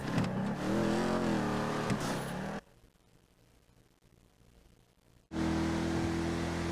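A Ford Mustang's engine in Grand Theft Auto V: a steady, loud droning hum that drops away sharply for a few seconds, then returns abruptly at full strength.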